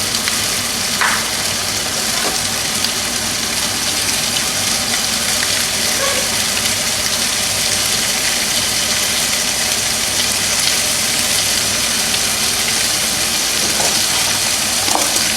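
Sous vide ribeye cap steaks searing in a hot pan, a steady dense sizzle and crackle throughout with occasional small pops and light utensil touches, close and continuous.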